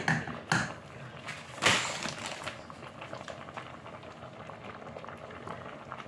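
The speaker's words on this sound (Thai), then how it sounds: "ต้มเส้นไปก่อนจ้ะ" Noodles boiling in a pot for Thai khanom jin with fish curry sauce, a steady bubbling simmer with a few louder splashes and clinks near the start, no talk.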